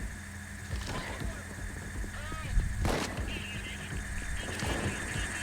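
Gunfire in the video game Payday 2, a burst of sharp shots with one loud report standing out over a busy, noisy game mix.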